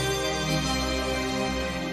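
Synthesized film theme from The NeverEnding Story, a sustained, dense wash of synth chords with a steady low bass drone, played alone at an even level without any voices.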